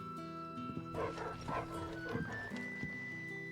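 A dog barks a few times in the Final Fantasy XVI video game, short barks set in a game scene with a steady musical hum and other layered sounds.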